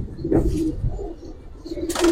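Giribaz and coloured pigeons cooing in a loft, a few soft low coos close by with rustling and a brief hiss near the end.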